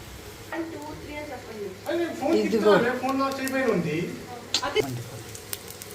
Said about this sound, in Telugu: ఇదిగోండి మినపప్పు, శనగపప్పు, ఆవాలు, జీలకర్ర, ఎల్లుల్లిపాయలు వేసానండి. కొంచెం వేయక తాలింపు వేసేద్దాం పచ్చడికండి.